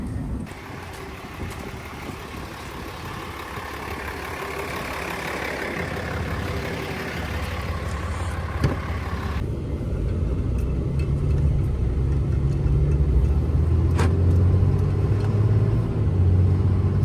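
A semi truck driving toward a gas station, a steady loud engine drone and road rumble from inside the cab, growing slightly heavier as it goes on, with no talk.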